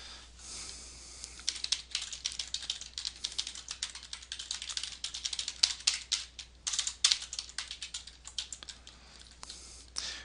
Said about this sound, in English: type in your response